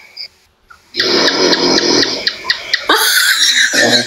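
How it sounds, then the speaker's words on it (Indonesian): Loud, rasping snores repeat in close succession, harsh and nasal, with a brief quieter moment before they begin. "Ngorok."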